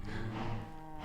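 Cows moo in the Minecraft video game, a single drawn-out bovine call lasting about a second, moderately loud and heard without anyone talking.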